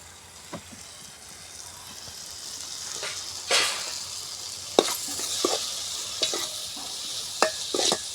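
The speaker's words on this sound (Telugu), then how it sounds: "ఇలా అయితే వేపేసుకుంటున్నాను. ముక్కలు అయితే బాగా మగ్గిపోయింది." Curry pieces with dried prawns, tomato and egg frying in a pan, stirred now and then: a steady sizzle runs throughout, broken by sharp scraping clinks of a spoon against the pan, with no talking.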